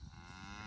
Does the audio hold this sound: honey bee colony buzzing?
no